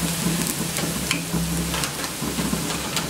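Chicken sautéing in a pan on a stove, giving a close, steady, loud sizzle with occasional stirring scrapes and no talking.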